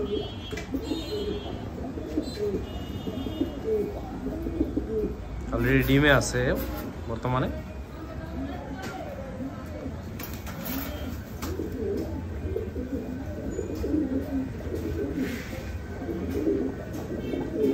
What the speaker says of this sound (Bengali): আর এইটা হচ্ছে আমার রেড কবুতর